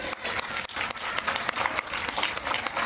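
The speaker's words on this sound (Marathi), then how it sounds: "चला तर मग आपल्या सगळ्या वाद्यवृंदांच्या कलाकारांसाठी एकदा जोरदार टाळ्या होऊन जाऊ दे" Audience applause for a children's music ensemble at a stage performance, dense steady clapping from a crowd sustained throughout without a break.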